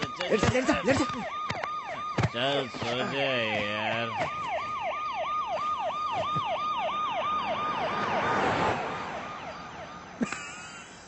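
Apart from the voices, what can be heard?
police siren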